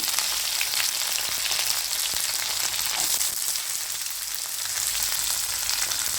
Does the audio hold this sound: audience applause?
no